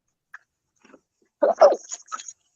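A dog gives a few short barks and whimpering yelps nearby, irregular and moderately loud, after near-silence, while its owner walks around dropping it off.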